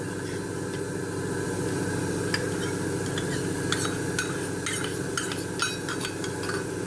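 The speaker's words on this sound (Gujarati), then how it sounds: "અને એને સારી રીતે મિક્સ પહેલાં કરીશું." Melted butter is stirred into ground biscuit crumbs for a chocolate cheesecake base, quiet intermittent scraping and clinks of a spoon against a bowl over a steady low hum.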